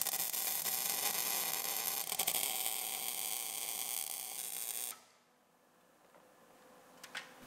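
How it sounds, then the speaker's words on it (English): Stud being welded onto a dump trailer during a rebuild: a loud, continuous crackling buzz of the arc runs for about five seconds, then cuts off abruptly to quiet with a couple of small clicks. "We're just going to weld the stud in there."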